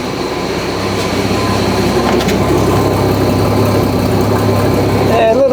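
A Hemi-powered International truck with a new exhaust runs loud and throaty at a steady drone, close by, while someone talks over the engine noise.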